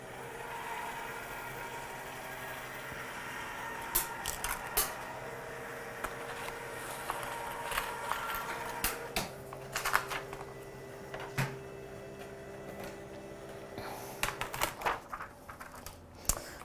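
A die cutting machine cranked by hand to roll card through, giving faint, irregular mechanical clicks and clacks over a low steady hum, with denser clusters of clicks toward the end.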